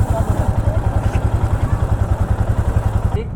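Motorcycle drive chain running dry before oiling, on a long solo road ride, with a steady rhythmic churning pulse under the engine, close and fairly loud throughout.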